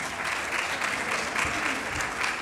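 An audience at an academic lecture event claps steadily, a loud, continuous round of applause from a crowded room lasting a couple of seconds with no talk over it.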